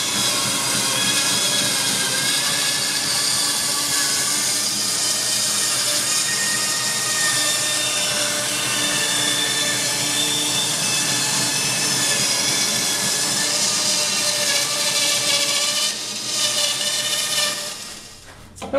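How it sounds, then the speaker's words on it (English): A bandsaw fitted with a circle cutting jig cuts wood circles, a loud steady whine with sustained high tonal ringing that runs continuously before winding down near the end. "I'll use my bandsaw with a circle cutting jig on it"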